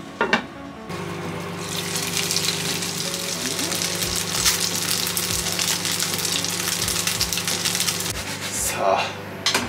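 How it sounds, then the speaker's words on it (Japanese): Diced frozen steak stir-fries in yakiniku sauce in a pan, a dense continuous sizzle and crackle with scattered soft knocks of stirring, close and steady throughout. "これをちょっと焼肉のタレでこれからちょこっとこう炒めて食べます"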